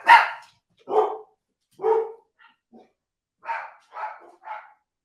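Dogs barking in a run of loud, sharp barks near the listener, spaced roughly a second apart, then a brief pause and another quicker cluster of barks, with no talking over them.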